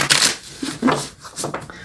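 Tarot cards riffle and slap in a few quick, close shuffling bursts by cold hands, crisp papery flutters separated by short pauses.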